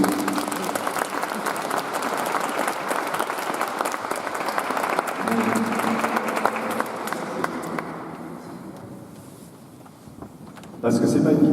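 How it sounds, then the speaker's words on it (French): A church congregation applauds the catechumens, dense clapping from many people filling the hall for several seconds before fading to a quieter murmur, then louder sound returns at the end. "Et on peut les applaudir si vous voulez."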